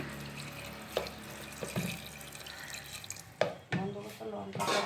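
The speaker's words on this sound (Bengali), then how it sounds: "জল দিয়ে দিচ্ছি" Water is poured into a pot of bottle gourd and pea lentil dal, giving a steady close splashing wash with a few sharp clinks and sloshes toward the end.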